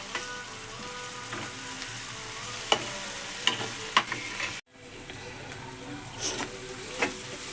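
Curry leaves and coriander sizzle in a frying pan as a spoon stirs and scrapes them, bright clinks and scrapes over a steady fry, with a sudden brief break near the middle before the sizzling resumes.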